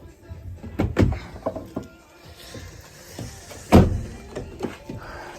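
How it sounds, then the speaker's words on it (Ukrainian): Seat Altea car door lock clunking and the door opening, a few sharp mechanical clicks and thuds with one louder knock near the middle, close by in a quiet space. "Відмикаємо, машина відкривається."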